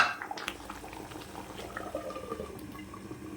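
A fish curry simmers in a pot with a close, steady bubbling and small liquid pops for a few seconds, and no one speaks.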